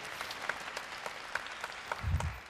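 An audience claps at a live televised university admissions briefing, producing a sustained, even patter of many hands with sharper individual claps popping out and a low thump near the end.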